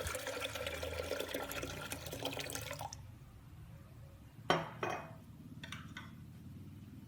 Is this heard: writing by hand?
no